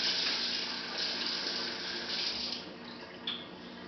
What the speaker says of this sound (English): So I rinse it off.